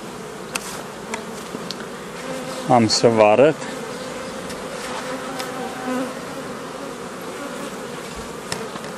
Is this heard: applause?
no